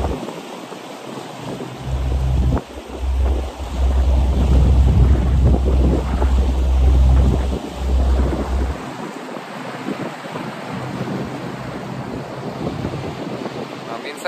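A tour boat moves across the water in Chicago, its low engine rumble steady and loud beneath constant wind buffeting for the whole stretch.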